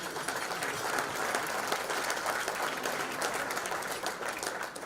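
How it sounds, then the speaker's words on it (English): An audience applauds the football coaching staff during a university football speech, a steady, even wash of many hands clapping throughout, fairly distant and with no voice over it. "in terms of the coaching staff, let's give them a round of applause"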